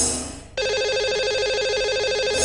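A phone line rings out as a radio host dials the day's lucky caller, a steady electronic ringback tone repeating in an even pulsing pattern for a couple of seconds after a brief quieter lead-in, with no talking over it.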